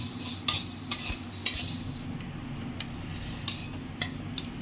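Black pepper dry-roasting in a pan over medium-low flame, stirred with a utensil: a few sharp scraping clinks stand out over a low, steady rustling with no voices.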